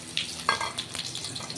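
Ground bottle gourd leaf paste with black cumin and chilli hitting hot oil in a pan, giving sharp crackling bursts that settle into an uneven sizzle with a few stirring scrapes, close and loud.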